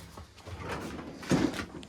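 A drawer on a home garage tool box slides open with a low scraping rumble, ending in a firmer knock near the end. The sound is fairly close and moderately loud.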